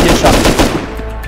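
Rapid gunfire from the video game Rust rattles in a loud, close burst of quick shots that fades within about a second.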